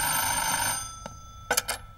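A telephone rings with a bright electronic trill that lasts under a second before fading, followed by a few soft clicks and taps in an otherwise quiet room.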